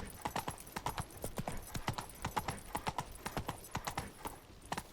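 Horse hooves galloping across ground in The Witcher 3, a fast steady clip-clop rhythm that continues through the whole stretch at moderate volume, with no voices over it.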